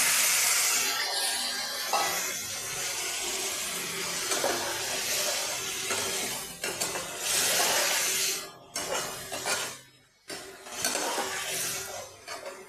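Water hits a hot pan of potato and pea curry on a home stove, setting off a loud, sustained hiss and sizzle that fades and stutters near the end with a few faint stirring clatters.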